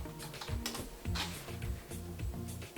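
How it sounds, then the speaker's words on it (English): Keys on a computer keyboard being typed in quick irregular bursts, fairly close and clear, with no talking over it. "And then we can actually type in C3PO"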